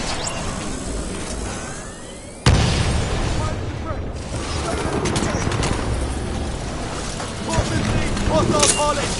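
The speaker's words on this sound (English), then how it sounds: "Hostile pilot exploded!" An enemy pilot blowing up during the Titanfall 2 campaign: a sudden loud boom hits a few seconds in, followed by a sustained rumbling roar of battle noise and scattered crackling debris, with voices in the mix.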